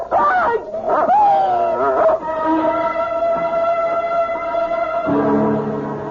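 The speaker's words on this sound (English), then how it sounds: "It's only a dog, for Pete's sake." Dog in a radio mystery drama, giving yips and whimpering, tonal whines and short cries, close and fairly loud over a steady background.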